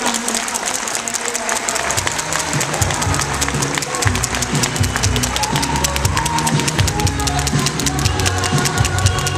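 A large audience applauds models at an event, a dense, steady wash of clapping that stays loud and even throughout, with some voices mixed in beneath it.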